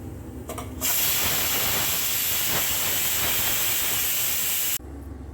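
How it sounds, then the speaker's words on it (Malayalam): Steam hisses loudly and steadily from a pot of chicken cooking for a full chicken masala, a strong continuous rush that starts abruptly and cuts off after a few seconds. "നമ്മുടെ കോഴി ഒരു സ്റ്റീം വരാറായി തുടങ്ങിയിട്ടുണ്ട്"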